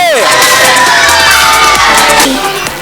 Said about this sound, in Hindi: तालियां बजाएंगे, शोर मचाएंगे।